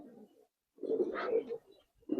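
Racer pigeons in a loft give soft, low cooing calls in short bursts with brief pauses between them, close and clear with no talk over them.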